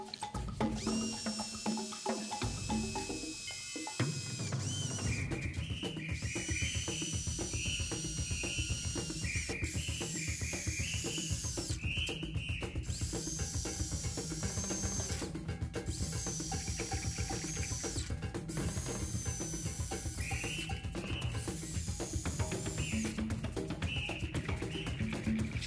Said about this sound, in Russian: Теперь высверлю сначала сверлом 3 мм, а после десяткой.